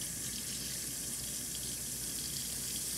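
Tap water running steadily into a sink during handwashing, a continuous even hiss and splash close by with no talking.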